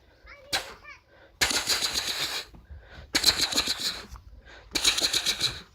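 A voice imitates machine-gun fire by mouth, three loud bursts of rapid rattling noise separated by short pauses, with a little talk before the first burst.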